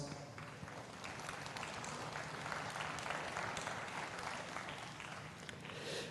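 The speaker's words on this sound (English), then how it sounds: "Let's give him a big round of applause." A crowd at a cattle show ring applauds after a champion Simmental bull drive, producing continuous, fairly distant and quiet clapping with a broad hiss and no pauses.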